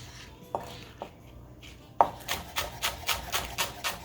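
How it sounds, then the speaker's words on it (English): Knife chopping scallions into very thin slices on a board: a few separate cuts, then a steady quick run of rhythmic chops, close and crisp, with no talking. "Then I'm gonna cut also the scallion."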